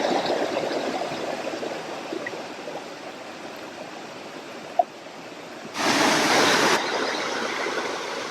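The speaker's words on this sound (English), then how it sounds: "it's time for me to stop swimming in the waterfall" Broadband rushing water of a Maine waterfall, steady and close throughout, with a brief sharp tap near the middle and a louder surge of spray for about a second late on.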